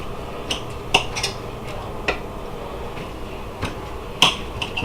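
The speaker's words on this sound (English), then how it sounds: "All right, so I'm gonna cut up the sausage" Knife slicing through cooked sausage on a board while preparing an air-fryer bacon, sausage, egg and cheese bagel: several sharp clicks and taps of the blade striking the surface at irregular intervals, close and moderately loud.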